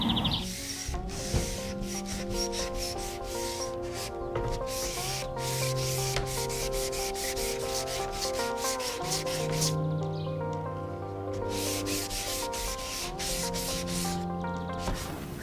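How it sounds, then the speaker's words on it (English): Hand sanding with fine-grit sandpaper, rapid regular rubbing strokes in a steady rhythm, loud and close with a brief lull midway, under a continuous tonal background with no speech. "I could start on just the hand sander around the edges just to see what it's like"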